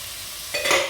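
Chopped cabbage tipped into a pan of stir-frying capsicum and carrot for chicken fried rice, a steady hiss that jumps louder halfway through as the cabbage lands and sizzles.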